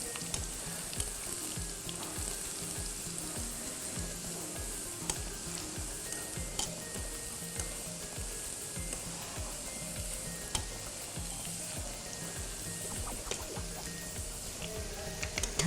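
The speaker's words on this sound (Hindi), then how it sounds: "लाल गोल मिर्चें थोड़ा उछलती हैं, क्योंकि मिर्चों का काम ही लगना और उछलना है" Dried red chilies, fenugreek seeds, garlic and onion fry in hot oil for a kadhi tempering, making a dense, constant close sizzle with crackles and popping spatters throughout.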